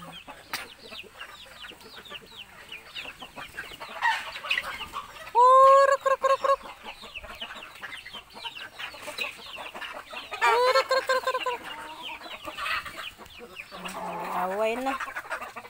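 Native chickens on a farm cluck and squawk, with a loud close call near the middle and more calls later, over a busy background of scattered bird noise and people talking in the distance.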